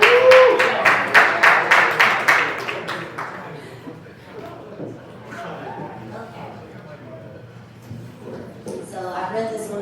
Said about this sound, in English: we give Keisha a round of applause